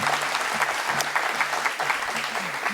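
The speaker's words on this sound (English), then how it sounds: "please give them a warm applause" Warm audience applause at a sustainable development centre launch event honouring two guests, a dense, steady clapping from a room of people with faint voices murmuring underneath.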